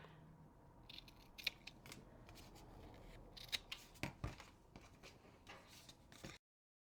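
Scissors snip through paper to trim the protruding edges of a flat paper pocket, giving a series of quiet, crisp cuts at irregular intervals, some clustered together, close up and very faint, with no talking.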